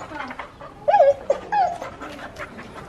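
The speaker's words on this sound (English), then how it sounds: "Stop barking at the pigs." A dog whines and yips close by, with short panting and whimpering sounds in a few bursts rather than full barks.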